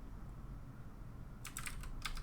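Fingers type on a computer keyboard during a Gentoo Linux install, a short burst of quick clicky keystrokes after a stretch of quiet room hum, fairly faint and close.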